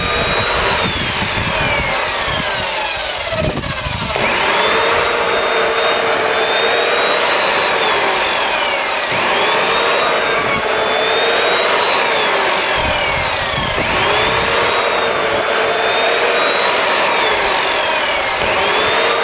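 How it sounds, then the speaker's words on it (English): Hand saw cutting a row of vertical notch cuts in wood for heavy-duty greenhouse staging, loud and close with steady rasping back-and-forth strokes that pause briefly between each cut, no talking. "what I'll do now is make a series of vertical cuts all in a line to get to the line on the right"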